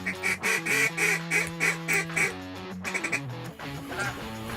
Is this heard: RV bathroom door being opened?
no